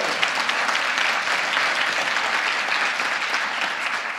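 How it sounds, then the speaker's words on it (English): Big, sustained applause from a lecture audience at Cal State Bakersfield honoring Dolores Huerta, a thick continuous wash of many hands clapping at steady loudness. "Let's give her a big applause,"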